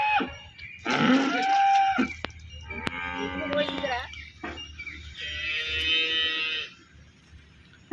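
A dairy cow on a family farm that milks thirty cows lets out several deep lowing moos at close range, separated by short pauses, with faint voices nearby.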